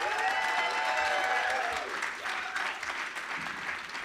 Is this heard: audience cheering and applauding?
yes